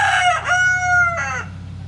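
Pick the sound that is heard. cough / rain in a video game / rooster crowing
rooster crowing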